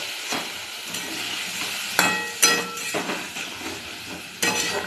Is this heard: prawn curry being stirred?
yes